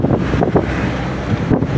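Wind buffets a microphone on a winding zigzag road in Mauban, Quezon, a steady broadband rush with gusty swells throughout and no talking.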